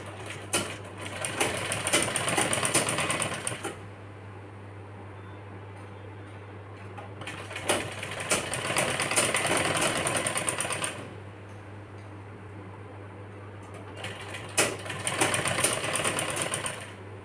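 Sewing machine stitching a seam on a girl's one-piece frock, three bursts of steady whirring needle chatter separated by quieter pauses over a constant low motor hum, close by.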